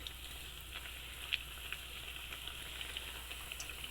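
Pumpkin vada frying in a pan, a quiet steady sizzle with soft crackles and pops, heard alone.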